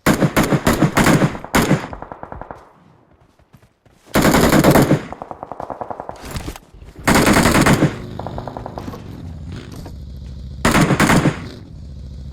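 Loud, rapid bursts of automatic gunfire from a game, several separate volleys with short gaps and a lingering rumble between them.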